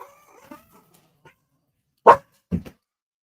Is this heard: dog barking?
yes